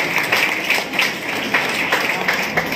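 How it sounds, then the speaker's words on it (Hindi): Audience applause at the Savitribai Phule honour ceremony, an award event, steady and dense with individual claps flaring up now and then, with no voices over it. "चिन्ह के साथ तालियां बजती रहनी चाहिए।"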